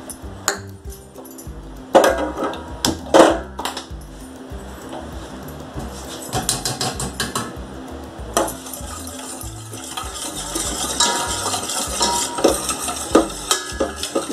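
A spoon stirs a chocolate syrup mixture for agar jelly in a pan on the stove, with repeated scraping and clinking of metal against the pan and occasional louder knocks, close and clear, no voices.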